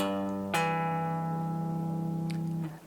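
A single acoustic guitar chord strummed once, ringing out clearly and decaying slowly, with a faint string squeak near the end.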